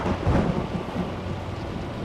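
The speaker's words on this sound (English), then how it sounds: "the storm was too fierce. Sheets of rain blurred everything beyond a few feet." Thunderstorm with heavy rain as a dark fantasy audiobook sound effect, a dense continuous roar of downpour with deep rolling thunder, loud and close, no voices.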